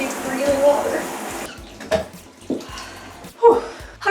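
Cold water runs from a tap while hair is being rinsed, a steady splashing hiss broken by shifts in the flow and soft gasps and voice sounds.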